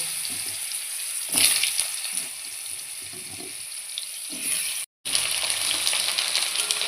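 Potatoes frying in heated mustard oil, a steady hissing sizzle close by with a few louder bursts of spattering and one brief cut to silence midway.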